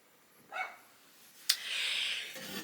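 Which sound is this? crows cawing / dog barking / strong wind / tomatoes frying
dog barking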